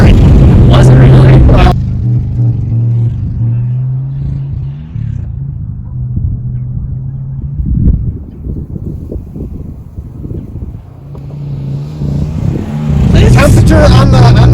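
Car engine running on peanut oil and bogging down, a loud low rumbling drone that sags and labours, with wind buffeting the microphone and voices talking over it near the start and end.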